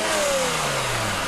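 BMW M6 with a 500-horsepower engine revving, a loud sustained mechanical roar with a slowly falling pitch over a little more than a second, heard alone with no voices.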